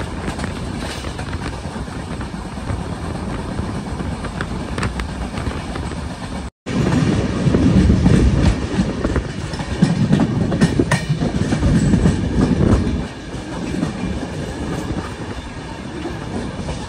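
Indian Railways passenger train running on the tracks near Beas station in Punjab, a steady loud rumble with rhythmic clickety-clack of wheels, briefly cut off midway then continuing, with no talk.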